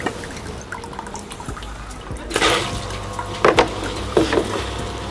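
Water trickles and drips as a newly built 600x600 sump and pump package primes itself, with a low background hum and several louder splashing gushes toward the end.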